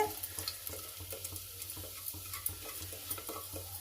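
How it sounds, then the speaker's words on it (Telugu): Ginger pieces fry in ghee for a festival pongal, making a soft, low sizzle with light stirring scrapes at a quiet level. "అల్లం ముక్కలు బాగా నూనె నెయ్యిలో వేపుకోవాలి"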